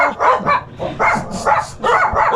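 Dogs bark loudly and close by in a quick, steady run of repeated barks with no pause.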